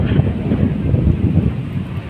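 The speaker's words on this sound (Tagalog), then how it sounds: "Sobrang hangin dito." Strong wind roaring across an open hilltop wind farm of giant turbines in Pililla, Rizal, a steady dense rumble buffeting the microphone throughout with no voices.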